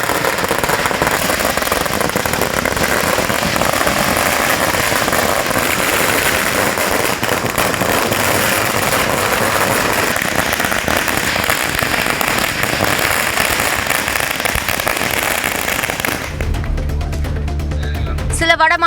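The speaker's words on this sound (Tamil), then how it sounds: "ஏறத்தாழ 4 நிமிடம் 12 வினாடிகள் இந்த பட்டாசுகள் வெடித்தன." A long chain of about one hundred thousand firecrackers bursting for Diwali in Tiruppur, Tamil Nadu, sounds as a dense, loud, continuous crackle with no pause for about four minutes, then breaks off abruptly near the end.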